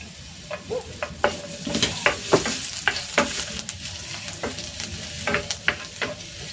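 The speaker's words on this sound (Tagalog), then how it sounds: "Igigisa ko na tong luya." Ginger being sautéed in a pan: a continuous close sizzle broken by repeated sharp scrapes and clanks of stirring at an irregular rhythm, with no voices.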